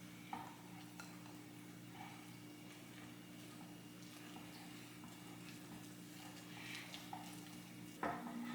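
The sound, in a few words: mixing brownie batter in a bowl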